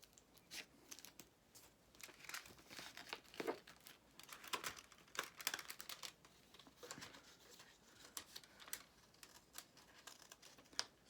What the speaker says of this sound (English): Trying not to use my cloth scissors there for paper.